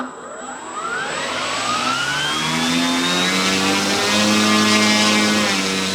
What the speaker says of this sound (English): Okay, so now we're gonna secure the plane and test the throttle a little bit.